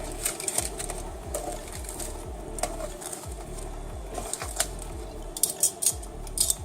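Crispy gluten-free vegan samosas flipped on an oven tray give scattered, irregular crunches and light clinks up close, over a faint background hum.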